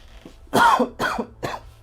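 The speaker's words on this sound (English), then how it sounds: "just got a bit of a cough" Three harsh coughs in quick succession, close and fairly loud, with a low steady hum underneath.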